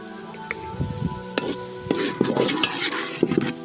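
Khoya roasting in ghee is stirred in a pan, with scraping and clinking of a spoon against metal at an irregular rhythm, close and fairly loud.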